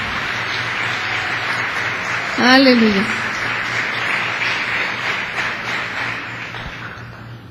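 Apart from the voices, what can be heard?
congregation applause in church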